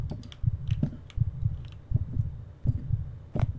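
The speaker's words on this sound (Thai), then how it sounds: "หัวใจเต้นทำไมเนี่ย" Heartbeat effect in a Pokemon haunted house video game: low, thumping double beats pulsing in a steady rhythm, about three pairs spread across the stretch, fairly loud with a faint background hum and no talk.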